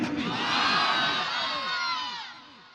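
A large crowd answers a takbir call by shouting Allahu Akbar in unison, one loud sustained roar of many voices that swells and then fades out.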